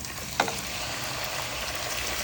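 Chicken pieces added to a pan of sautéed garlic, onion and ginger for tinola, giving a steady soft sizzle and frying hiss with a brief clatter near the start, fairly quiet and with no talk.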